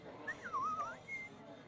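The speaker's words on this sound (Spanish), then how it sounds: "silbando entre dientes" Someone whistling softly through their teeth, a single short melodic phrase that dips and rises before ending on a brief held note, close and alone against a faint hiss.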